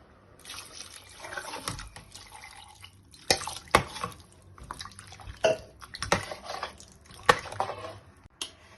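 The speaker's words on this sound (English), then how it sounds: "I'm going to put in extra 450 ml of water" About 450 ml of water splashes and pours into a pot of vegetable soup with carrots in several separate bursts, with drips and clinks between the pours.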